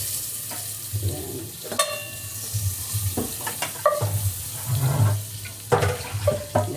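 Butter sizzles in a hot casserole pan while garlic and onion are prepped for creamy sopas, a steady crackling fry with clattering stirring and kitchen noise close by, with a brief spoken word.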